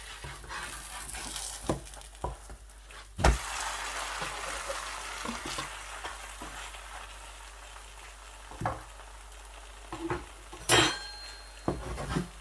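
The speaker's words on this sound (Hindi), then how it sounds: "खस्ता पराठा जो है वो तैयार हो रहा है" A crispy double paratha made with butter fries in a pan, giving a steady soft sizzle broken by several sharp clinks of spoons scraping and tapping the pan as it is turned.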